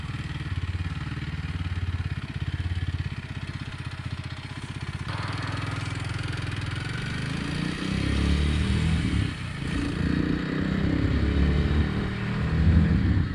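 A Kawasaki W230 (Meguro S1) 233 cc single-cylinder motorcycle carrying two riders engine-brakes while downshifting, a steady close rumble with shifting revs and a clattery drone throughout, no talk.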